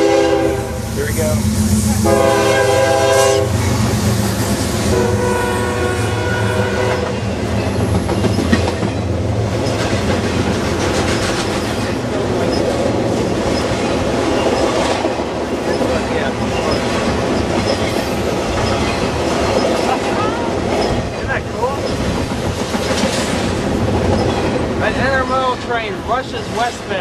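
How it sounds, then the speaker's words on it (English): A westbound CSX freight train led by a GE GEVO locomotive roars loudly through a crossing at night, its horn blaring in long blasts over continuous rumbling wheels and clattering cars, with the crossing bell and faint voices underneath. "That's a CSX GEVO, the one coming."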